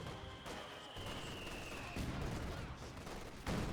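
Light machine gun suppressing fire from Grenadiers in Company of Heroes 2, a dense, continuous rattle of gunfire with explosive thumps, loud and sustained throughout with a sharper burst near the end.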